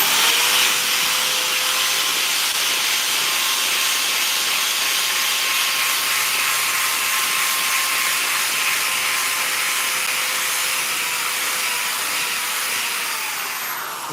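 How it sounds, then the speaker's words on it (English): A big powerful drill churns clumpy powder back into a loose mix in a knifemaker's shop, a steady loud whirring hiss holding for about fourteen seconds before easing off at the end. "So I take a big old powerful drill"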